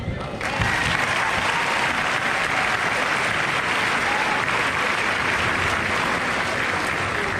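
Graduates at a 2022 Logansport High School graduation ceremony applaud steadily, a dense, sustained wash of clapping that begins after a brief moment and holds strong throughout.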